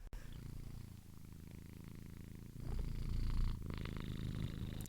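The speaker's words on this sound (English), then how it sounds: "The fluffy, smush-faced cat that is purring directly into this microphone right now." A fluffy, flat-faced cat purrs directly into a microphone, a close, steady rumbling purr that grows louder and rougher partway through.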